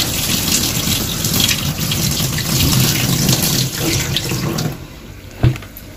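Soaking water poured off soaked wheat through a sieve into a sink, a loud continuous gushing stream for several seconds that tapers to a trickle, followed by a single clunk.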